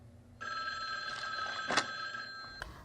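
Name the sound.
telephone ringing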